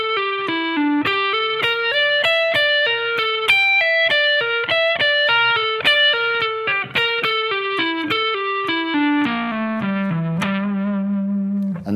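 An electric guitar with effects plays a minor pentatonic lick with a flat fifth, a quick run of clear picked notes descending to a sustained low note that rings out.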